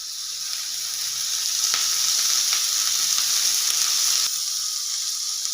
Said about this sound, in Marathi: आता आपण हे कांदे भाजून घेऊ। यात थोडं तेल टाकू।